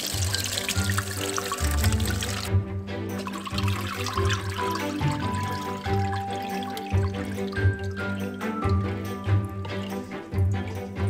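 Beetroot juice poured through a sieve, heard as a close, continuous trickling and splashing stream that varies in flow.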